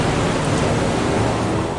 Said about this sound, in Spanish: empiezas a oír el sonido martilleante de la lluvia contra el fuselaje